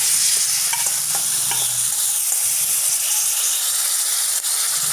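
Chopped lime pickle frying in hot oil in a pan, stirred with a spatula. A constant loud sizzle and hiss runs throughout, with soft scraping and clinking of the utensil, and no talking.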